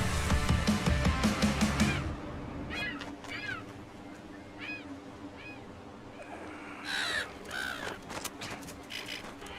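A crow caws in the video game Wolfenstein The New Colossus, sounding as several short harsh calls over a steady ambient hum after a loud burst of game noise at the start.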